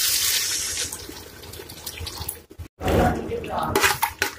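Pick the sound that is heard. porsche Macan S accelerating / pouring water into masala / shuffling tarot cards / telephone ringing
pouring water into masala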